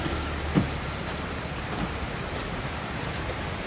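Steady rain falls throughout as a broad, even hiss, with one brief soft thump near the start and no speech.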